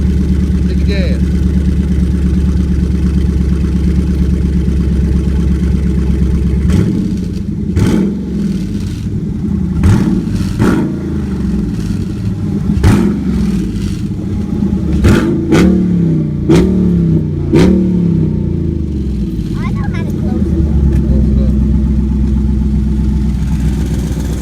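A 2016 Dodge Challenger ScatPack with exhaust cutouts idles with a deep rumble, then blips its engine through a series of sharp, loud revs before settling back to idle, with someone talking over it.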